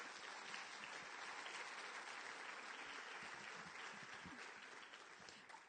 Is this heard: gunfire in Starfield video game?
no